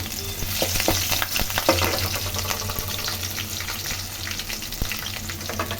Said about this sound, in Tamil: பூண்டு கொஞ்சம் வதக்கட்டும் இதில் ஒரு ரெண்டு பச்சை மிளகாய் போட்டுக்கலாம்